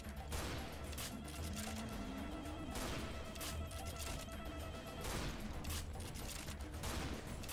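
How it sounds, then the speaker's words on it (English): Rapid gunfire from a weapon in the shooter game Serious Sam 3: BFE, modded version, sustained and loud with dense crashing bursts throughout. "I just love shooting this gun."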